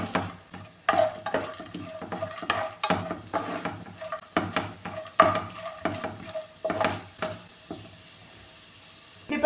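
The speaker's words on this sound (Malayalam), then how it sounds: "ഇതിപ്പോൾ ഞാൻ ഇതെല്ലാം ഒന്നിച്ചങ്ങ് വറുത്തെടുക്കുകയാണ്" A spoon stirs and scrapes cashews and roasted chickpeas frying in ghee in a metal pan, giving irregular clinks and scrapes over a faint sizzle, with no voices.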